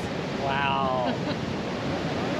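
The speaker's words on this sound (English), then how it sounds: "Powerful water crashing into that white froth on the rocks with that blue-green water everywhere." Powerful Niagara Falls water crashes onto rocks at the base of the falls in a continuous broad roar, with a brief voice rising over it.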